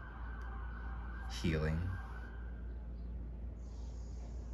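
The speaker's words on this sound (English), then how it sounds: "I apologize for the sirens." A siren wails and warbles steadily in the background while a person speaks over it, the tone rising and falling.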